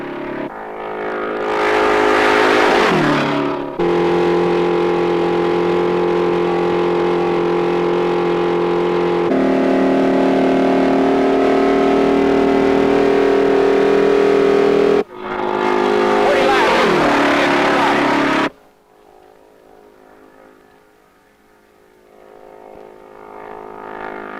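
An all-new 1968 car's engine roars and revs hard at close range during a punishing road test for a long stretch, cuts abruptly, returns briefly, then falls to a quieter hum.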